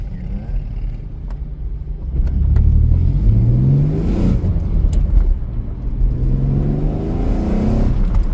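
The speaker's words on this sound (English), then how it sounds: "See my exhaust rattling again." A 1966 Ford Econoline van drives down a mountain road, its engine rising and falling close by while a loose exhaust rattles and buzzes underneath.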